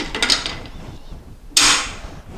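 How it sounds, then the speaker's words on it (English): The feed tray of an X11E4 belt-fed Bren-derivative machine gun being fitted back in: light metallic rattles and clicks first, then a sharp metal clack and brief scrape, close and alone. "We'll put the feed tray back in."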